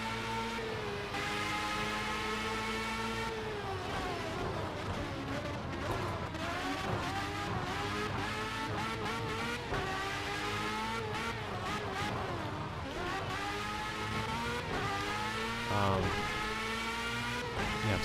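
Race car engine in the Project CARS 2 video game, a continuous harmonic engine whine rising and falling with revs and gear changes, loud and steady with no clear tire squeal.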